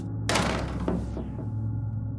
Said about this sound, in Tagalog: At ang kasunod nito ay ang malakas na paghampas ng pinto.